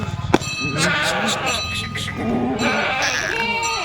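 Kathewadi goats bleat in a busy livestock-selling crowd, several overlapping, wavering calls close by, mixed with a metallic clang and people talking.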